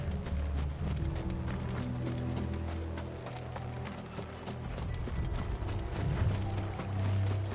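Several horses gallop in a video game, their hoofbeats a rapid, continuous clip-clop with a faint mechanical rattle and gear-like sounds underneath, fairly loud and steady throughout.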